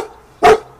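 A single loud dog bark, sharp and close, standing out against a quiet background.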